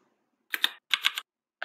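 A Git Bash command is typed on a computer keyboard as two quick bursts of close, crisp keystrokes. A single click follows after a brief gap, all in a quiet room.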